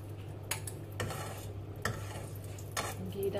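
Ghee is stirred in a pan for suji halwa, a soft scraping of a spoon against metal in a few distinct strokes over a faint sizzle and a steady low hum.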